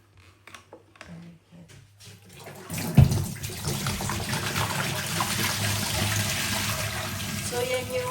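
Water running from a laundry tap, a steady broadband rush that starts abruptly about a third of the way in and continues loud and close, after a few quiet knocks.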